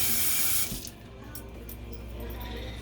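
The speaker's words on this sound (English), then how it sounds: "wash my hand again" Hands are washed under a running kitchen tap: a loud rush of water pours for the first moment, then fades to a softer, quieter trickle and hiss.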